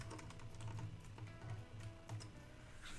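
Keystrokes clatter on a Razer Deathstalker computer keyboard, a quick irregular patter of clicks over a low steady hum, fairly quiet and close.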